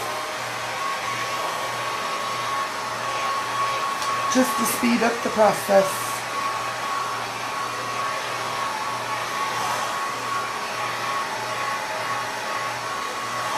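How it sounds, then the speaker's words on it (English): A handheld blow dryer runs steadily close by, drying a freshly cleaned nautical piece to remove dampness, with a brief spoken remark and a few handling clatters near the middle. "I'm just going to hit it with a blow dryer to make sure the dampness is off."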